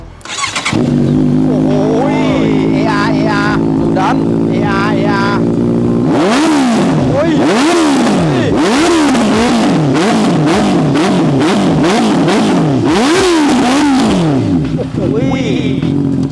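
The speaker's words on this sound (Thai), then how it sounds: "มาฟังเสียงเครื่องยนต์ดูครับ" A motorcycle engine is revved hard over and over, each blip of the throttle rising and falling in loud, close bursts after a steady idle, with a few voices faintly underneath.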